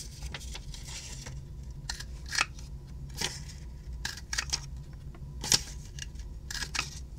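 Scissors snip through paper while pieces are trimmed for a handmade double-pocket card, a series of close, crisp cuts at an uneven pace with brief quiet gaps between them.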